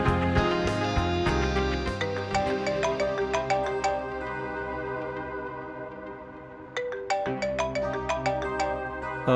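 A phone ringtone plays a bright, repeating electronic melody for about nine seconds, loud and close, with a short pause near the end before it resumes.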